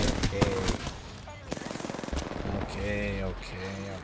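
Rapid automatic gunfire from the video game Apex Legends, a fast run of bursts mixed with game effects, with a voice talking over the shots.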